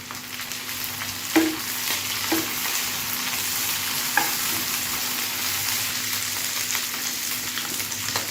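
Spleen frying in a pan with onions that have softened and browned, cooked shop-style: a steady, close sizzle with a few sharp stirring clicks and scrapes.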